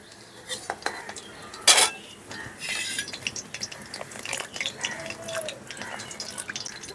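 Fried paneer cubes lifted out of a pan with a metal utensil and dropped into water, giving clinks of metal on cookware, a sharp clatter, then soft drips and splashes.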